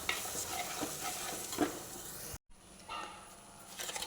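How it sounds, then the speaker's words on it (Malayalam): Tomato and garlic paste sizzles and sautés in a hot pan while being stirred, a steady frying hiss with soft scraping strokes and a brief gap partway through. "പിന്നെ ഇതും കൂടി ഒന്ന് നല്ലപോലെ ഇളക്കി ഈ തക്കാളിയുടെ പച്ചമണം മാറുന്നോടം വരെ ഒന്ന് മൂക്കട്ടെ."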